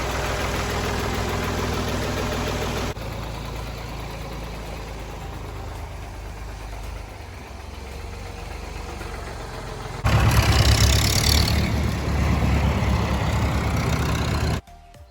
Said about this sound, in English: Someone said there's about 50 tractors going.